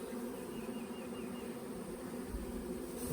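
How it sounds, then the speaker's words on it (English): Honey bees buzz steadily around hive frames at a farm nucleus colony, a dense, continuous droning hum that stays close throughout, with no talking. "The bees are happy."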